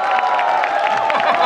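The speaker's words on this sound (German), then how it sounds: "Jetzt will ich erstmal einen tobenden Applaus" Festival crowd at a long-table street gathering in Cologne applauding and cheering, a dense, continuous wash of clapping and voices filling the whole moment.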